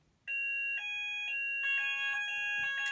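Fire alarm sounders on an addressable Vector system sounding for evacuation, several electronic tones switching on together in a steady, loud multi-pitched beeping that shifts as the units fall out of sync, with no talking.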